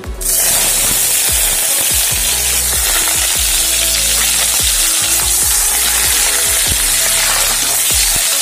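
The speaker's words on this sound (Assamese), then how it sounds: "এইখিনি গাহৰি মাংসখিনি দি দিওঁ" Pork pieces fry in hot oil in a wok over a low gas flame for pork fried rice, a loud, constant dense sizzle with occasional scraping clatter and no talking.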